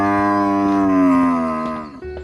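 A bull gives one long, loud, drawn-out moo close by, the tone sliding slightly downward before breaking off, followed by a short lower grunt.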